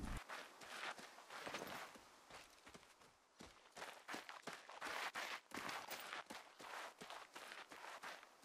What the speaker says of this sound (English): Just listen to those footsteps.